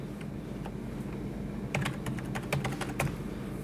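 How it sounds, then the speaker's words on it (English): Someone enters a username and password on a computer keyboard, a quiet, uneven burst of key clicks that starts sparse, then speeds up over a low background hum, with no talking. "typing in the appropriate username and password."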